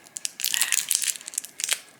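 Plastic packaging crinkles and crackles as it is pulled open, a steady run of crisp rustling close by.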